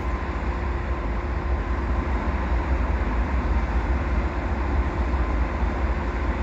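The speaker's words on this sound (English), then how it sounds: "Looks like an ES44 AC. Maybe an older locomotive." An ES44AC diesel locomotive hauls a freight train, heard as a steady, dense rumble and roar that stays constant and fairly loud throughout, with no voices.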